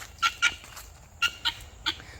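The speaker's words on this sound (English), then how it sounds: "y'all are being loud because you went away from the other chickens" Several chickens call out loudly after straying from the rest of the flock, giving short bright squawks in two clusters, alone without talk.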